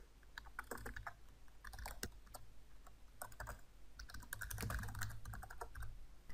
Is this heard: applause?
no